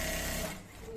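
A sewing machine stitching fabric for a sleeve, with a fast rhythmic mechanical whir close by that stops about halfway and then briefly resumes.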